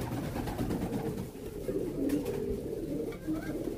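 Released pigeons coo in low, soft murmurs over a steady, rumbling outdoor background.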